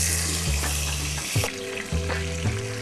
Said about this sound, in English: Okay, so now start frying the bitter gourd.